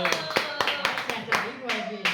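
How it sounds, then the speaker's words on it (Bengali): Loud hand clapping in uneven bursts during a lively saree-winning party game among family members, with voices and chatter running underneath. "জোরে হাততালি।"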